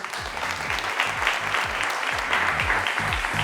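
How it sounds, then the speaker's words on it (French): An audience applauding steadily at a fashion show in Limoges, dense clapping that holds at an even level throughout, with a few louder claps standing out near the front. "vous pouvez vous applaudir pour ça."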